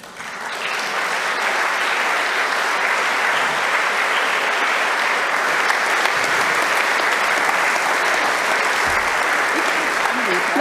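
A conference audience at a 100-year anniversary meeting in Berlin applauds after a speech. The clapping is long, even and sustained and fills the hall at a steady level.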